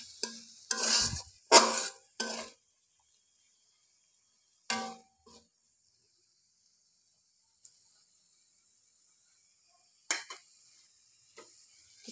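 Dried loitta fish with green chilies stirred in a pan, a few short scraping bursts of a spatula close by, separated by long quiet gaps, with a faint sizzle between strokes.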